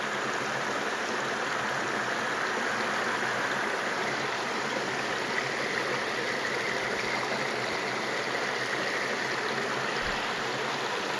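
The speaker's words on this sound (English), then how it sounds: "cool off in the creek by a little bitty waterfall" A creek flows past a small natural waterfall on a hot day, producing a constant, even rush and trickle of water that stays close and unchanging throughout.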